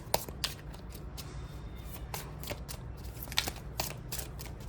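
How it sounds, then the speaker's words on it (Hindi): Tarot cards shuffled by hand, giving a steady soft riffling texture broken by sharper card snaps at irregular moments, close and fairly quiet with no talking. "तो अगर आपने पहले शफल में अपना क्वेश्चन नहीं पूछा है तो इस शफल में ज़रूर पूछ लिएगा"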